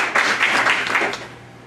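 Brief applause for Nima at a community board meeting, several people clapping in a loud burst that thins out and fades over under two seconds, with no talk heard.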